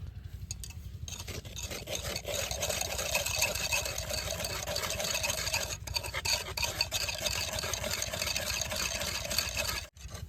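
Lime made from burnt shells being stirred with a little water in a pot, a steady scraping, rasping churn that runs continuously, close and moderately loud, with a brief pause near the end.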